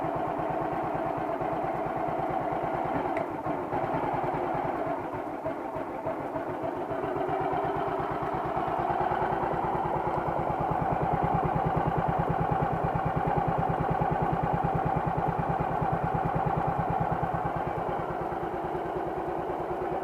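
An old 2003 Royal Enfield Bullet Thunderbird engine idles continuously up close, an even mechanical thrum with a faint whirring rattle from the magneto mixed in, rising slightly partway through.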